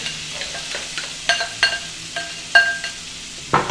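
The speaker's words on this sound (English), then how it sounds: "And then we're gonna add our shallot." Diced celery and shallot stirred in a pot for lobster bisque, a soft sizzle broken by repeated clinks and scrapes of a spoon against the metal, close and uneven in rhythm.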